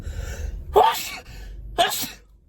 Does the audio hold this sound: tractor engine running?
no